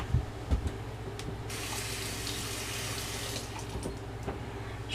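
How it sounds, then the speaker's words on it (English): Tap water runs steadily to rinse dark slurry off a sharpening stone and plate used to hone a straight razor, a soft continuous splashing with a brief louder gush near the start. "to rinse that off. Rinse the plate off."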